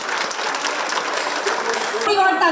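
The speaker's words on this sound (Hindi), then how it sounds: "जोरदार तालियों के साथ स्वागत कीजिए माननीय मुख्यमंत्री" A crowd claps steadily throughout, a dense wash of applause welcoming the Chief Minister at an event in Ranchi, with a voice speaking over it and a brief tonal flourish near the end.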